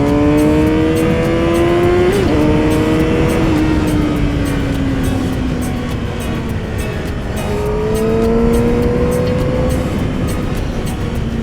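A Yamaha R6 motorcycle pulls hard through rising gears, its loud, close engine note climbing in pitch and then dropping at each shift, with no talk over it.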